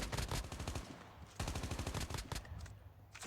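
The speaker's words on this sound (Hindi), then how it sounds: "मुझे गोलियों की आवाज़ सुनाई दे रही है" Rapid bursts of gunfire in Call of Duty crackle in quick succession, a loud volley, a short pause, then more shots, with a slightly synthetic game-like quality.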